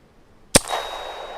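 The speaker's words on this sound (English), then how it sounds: "We need to hit all of the bells." A single bell struck in the video game The Cycle: Frontier gives a sharp, loud metallic clang that rings out briefly and decays over a faint background.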